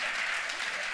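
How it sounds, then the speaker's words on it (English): Audience applause, a brief burst of dense, even clapping that is fairly loud and sustained for about a second. "That is something to clap about"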